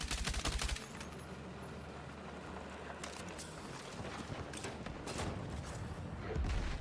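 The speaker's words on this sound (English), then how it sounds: "Hostile machine gun." Hostile machine gun fire in the RedSec multiplayer shooter, dense bursts of rapid shots crackling together in the first second, then scattered sharper cracks and thumps over a steady battlefield rumble.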